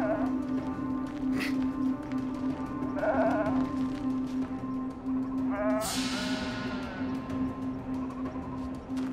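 Sheep bleat several times over a steady low hum, with a few distinct calls spread across the scene at moderate distance.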